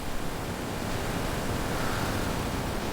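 Pacific Ocean surf roars as a steady, dense wash of breaking waves, with no voices heard.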